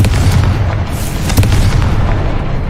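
A Confringo spell explodes in Hogwarts Legacy, a loud, deep boom with a rumbling, crackling tail that fills the whole moment without any talk over it.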